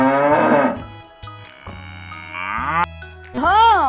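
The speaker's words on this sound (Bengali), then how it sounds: "গরু বাছুর দাঁড়িয়ে আছে।" A cow and her calf moo at close range: a deep, drawn-out lowing call, a few shorter grunting moos, then a higher, rising bleat-like moo near the end.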